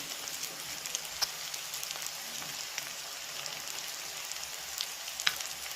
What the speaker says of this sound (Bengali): আলু আর উচ্ছে ভাজা ভাজা হয়ে এসছে